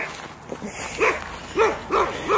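A dog barks four times in a loose, evenly spaced series, moderately close, at a rural property with a goat barn, chicken coop and mobile home, with faint background noise and no talking.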